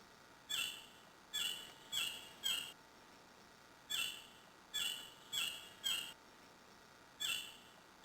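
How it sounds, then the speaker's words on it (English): A shrike-thrush in Queensland forest calls in repeated clear, high whistled notes, grouped in quick runs of three or four with short pauses, bright and close over quiet background. "Our Shrike-Thrush is found only in this limited area of Australia."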